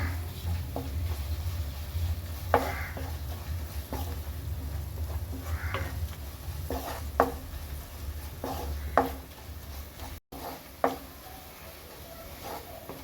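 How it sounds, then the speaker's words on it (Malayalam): A spoon stirs spice powders with pepper and chicken masala powder in a pan for chicken thoran, making intermittent scrapes and soft knocks against the metal at an uneven pace, close up with no talking. "നല്ലതുപോലെ മസാലപ്പൊടിയുടെ എല്ലാം പച്ചമണം മാറുന്നത് വരെ ഇളക്കി കൊടുക്കുക"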